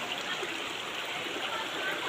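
Cold water from a waterfall rushing down in a steady, continuous stream, close by and fairly loud, with no voices over it.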